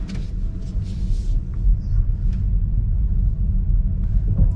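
Tesla Model 3 electric car reversing slowly through a car park, a steady low rumble of tyres and road noise close by with faint higher whirs, no talking.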